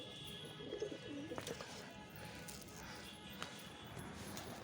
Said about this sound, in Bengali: খুবই রাগি পায়রা এটা